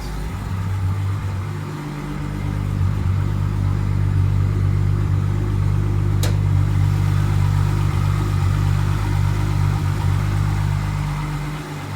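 A car engine idles steadily with the bonnet open, cold-started for the first time in a while, giving a constant low hum with a brief sharp tick partway through.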